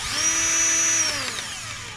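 An electric drill spins a Dremel bit up close with a high steady whine, holding for about a second before winding down.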